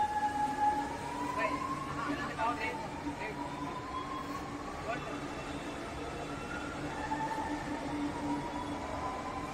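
A metro train at Vadapalli station in Chennai gives a steady rumble with long rising and falling electric whines and screeching wheel tones, heard continuously throughout.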